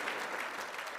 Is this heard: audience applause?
yes